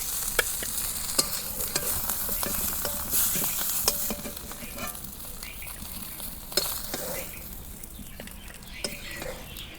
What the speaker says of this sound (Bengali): মাছ ভাজা আছে, নামে নেই, শেষ মাছ ভাজা।